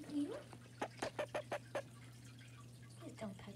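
Indoor chicken (hen) making a quick run of six or seven short, sharp clucks near the mic, with softer vocal sounds at the start and end over a steady low hum.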